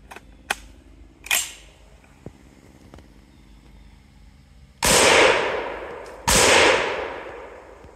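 Two loud .308 rifle shots strike a Level III multi-strike body armor plate, each a sharp crack with a long ringing decay, preceded by a few fainter clicks and taps of handling.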